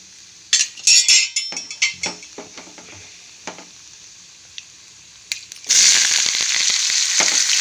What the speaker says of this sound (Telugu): ఉల్లిపాయలు పచ్చిమిరపకాయలు కరివేపాకాయలు వేసేసుకుందాం